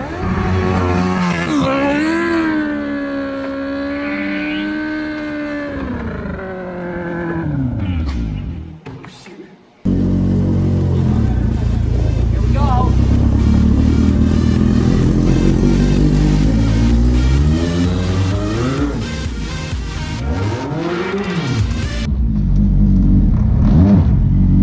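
A Smart car fitted with new snow tires revs hard while drifting on ice, the engine note rising and falling in repeated surges, close and loud, with a brief cut-off before it roars back up.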